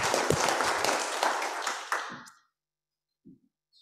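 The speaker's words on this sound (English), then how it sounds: "let's just give them another big round of applause." A church congregation at a Sunday service after Pentecost gives a round of applause for newly confirmed members, steady clapping lasting about two seconds before it stops abruptly into near silence.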